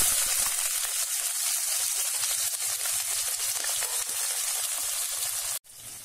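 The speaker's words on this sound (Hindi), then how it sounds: "सबसे पहले 1 चम्मच भर के जीरा डालेंगे, देन प्याज" Cumin seeds and onions frying in hot oil, a bright, constant hiss with scattered low stirring bumps, stopping suddenly near the end.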